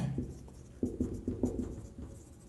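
Chalk or marker strokes on a lecture-room board, heard as soft, close scratches and taps in short irregular bursts, faint and alone, with no voice over them.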